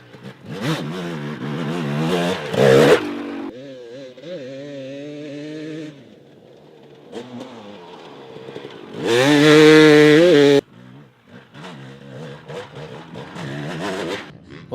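A 300cc dirt bike engine on trail riding rises and falls in loud, rough revving bursts, with one sustained full-throttle scream near the end and quieter stretches of lower engine drone between.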